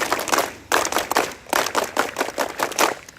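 Scouts at a Pramuka campsite perform the Pramuka clap in unison, sharp rhythmic bursts of hand claps in patterned groups with brief pauses between, close and lively.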